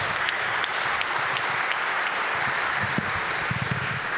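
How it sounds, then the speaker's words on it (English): Steady, loud applause from a large arena audience greeting the NBA Commissioner at a Washington D.C. announcement event, continuous broadband clapping with scattered whoops throughout and no speech over it. "give a big, jubilant round of applause for NBA Commissioner Adam Silver."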